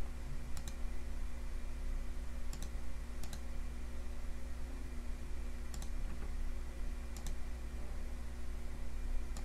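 Sharp, isolated computer mouse clicks while importing packages in the Eclipse IDE, about eight crisp clicks, several in quick pairs, spaced over a steady low background hum.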